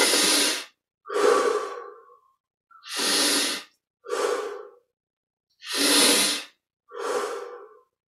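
Deep breaths during a yoga exercise come in three close, audible pairs of a long airy inhale followed by a hissing exhale, with silent pauses between them.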